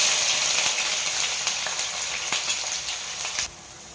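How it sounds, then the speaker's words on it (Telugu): Onions frying in hot oil for a Nellore fish curry give a steady, close sizzle with fine crackles. The sizzle carries on throughout, then drops to a softer hiss near the end. "ఉల్లిపాయలు వేగినాయండి"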